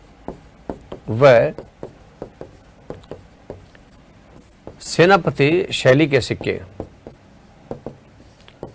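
Marker or chalk writing on a board during a classroom lesson, heard as short scratchy rubbing strokes in an irregular rhythm, close by, with someone speaking in bursts between and over them.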